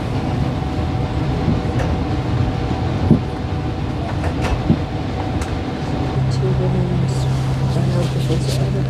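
A passenger train pulls out of Broadmeadows station in Melbourne on a Melbourne-to-Sydney run, giving a steady, loud rumble of rolling stock with a rising low hum toward the end and a few faint clanks.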